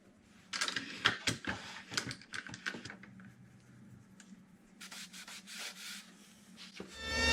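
Sanding of birch plywood cabinet doors, with irregular bursts of scratchy rubbing strokes, some sharp and close, separated by quieter gaps, and no voices.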